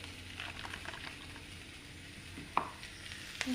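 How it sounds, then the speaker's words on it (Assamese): Vegetables fry in a pan with a soft, continuous sizzle and occasional stirring scrapes, close and quiet, with a couple of sharper clinks of a utensil near the end. "এইখিনি অকণ ভাজি ল'লোঁ"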